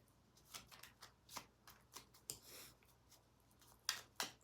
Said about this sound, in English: I just want to give them a good shuffle